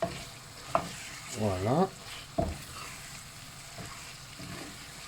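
Mustard cooks in a pan for a creamy chicken roll, giving a soft, steady sizzle under spoon strokes that scrape and tap the pan; a voice speaks a short word.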